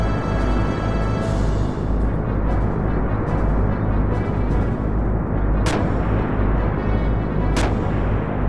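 Heavy cannon fire from a sand cruiser in the Xenogears video game, a dense continuous rumble with a few sharp blasts standing out near the end, loud and close.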